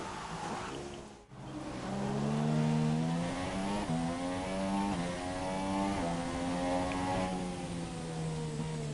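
Onboard engine note of a McLaren F2 race car lapping Suzuka in a racing video game, loud and continuous, with rising harmonic sweeps as it accelerates through gears and a brief drop near the start from a gear change or lift.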